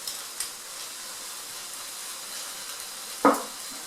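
Curry paste sizzling steadily in a hot frying pan for chicken curry, a low continuous hiss with a few faint spoon scrapes and one louder clack near the end, no voices.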